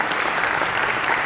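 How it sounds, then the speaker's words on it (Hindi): An awards-ceremony audience breaks into dense, sustained applause welcoming a guest, a brief, loud wash of many hands clapping. "तालियों की गूंज के साथ उनका स्वागत करते हैं"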